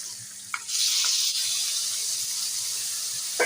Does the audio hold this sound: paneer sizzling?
yes